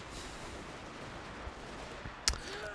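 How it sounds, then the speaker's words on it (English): Line infantry in Total War Shogun 2 fire muskets in a steady background crackle of distant volleys, with one sharper shot standing out above the continuous battle noise. "Now my line infantry is doing a good suppression fire job against those troops."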